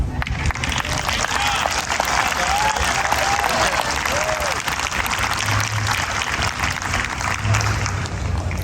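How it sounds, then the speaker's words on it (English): An audience at an 8th grade promotion ceremony applauds the student speakers in a sustained, dense round of clapping that holds steady throughout, with faint voices mixed into the crowd noise. "Let's give all of our student speakers a round of applause"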